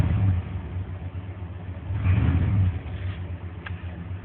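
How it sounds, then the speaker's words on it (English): A 1994 Chevrolet K1500 pickup with a 5.7-litre TBI V8, which has had hard-start and stalling trouble, idles smoothly and steadily with a continuous close-up low rumble and no talking. "right now it's idling nice and smooth like it did before it had any of these problems"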